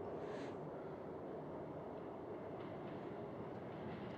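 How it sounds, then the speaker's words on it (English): A real subway car in a scene from the 1963 film Charade gives a steady, close, rumbling roll of a moving train, continuous throughout with no talking. "That's a real subway car."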